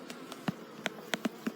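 Honey bees buzz around an open beehive during a late-summer hive check, heard as a few faint, brief passes of buzzing near the listener over a quiet background.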